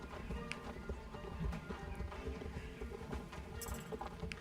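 Horse hooves clip-clop in a steady, quick rhythm in the Star Stable Online game, faint and continuous at a low level, with scattered game effects around them.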